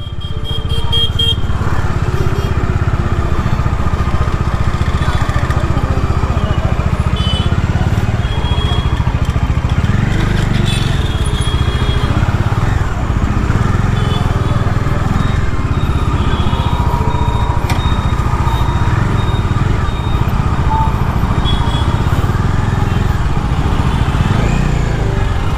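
A motorcycle rides through busy Bangalore city streets, its engine droning loud and close without pause, with surrounding traffic and occasional horn honks mixed in.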